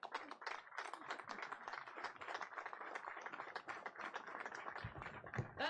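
A crowd applauds at an outdoor public announcement of a new bridge gateway in Anacostia, Washington, D.C., producing dense, continuous clapping that sounds fairly distant and steady throughout, with no speech over it.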